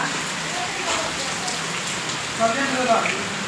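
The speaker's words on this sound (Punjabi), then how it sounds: "ਕਿੰਨੀ ਜ਼ਿਆਦਾ ਬਾਰਿਸ਼ ਆ" Heavy rain falls steadily in a soft, even hiss of drops on surfaces, with faint background voices beneath it.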